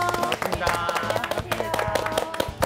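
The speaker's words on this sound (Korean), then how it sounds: "박수로 한번 모실까요?" A small studio audience claps in welcome for a guest, with a dense patter of hand claps running steadily throughout, close and moderately loud.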